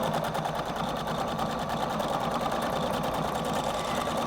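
A Husqvarna Viking Designer Brilliance 80 sewing machine stitches continuously, a steady close whirring hum with a fast rhythmic needle pulse throughout.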